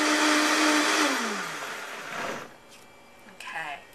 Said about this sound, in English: So we're just going to blend this up to start.